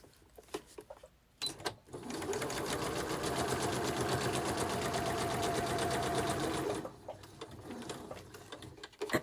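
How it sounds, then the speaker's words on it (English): A sewing machine stitches through a handmade paper journal in one steady burst of about five seconds of rapid rhythmic whirring, framed by brief handling clicks and taps before and after. "And now I'm just going to sew across the top here and down here."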